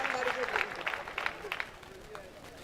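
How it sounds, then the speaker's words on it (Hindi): An audience at a Hindi comedy poetry gathering claps, a brisk burst of applause with crowd murmur that gradually thins out over a few seconds. "जरा पूरा सदन एक बार तालियां बजा करके बताया"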